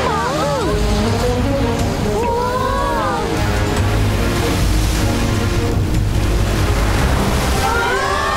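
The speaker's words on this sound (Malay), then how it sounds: "Itu ombak." Ocean waves surge and slosh loudly and continuously in a dinosaur cartoon, a heavy rolling rumble with chirpy animated creature voices calling over it.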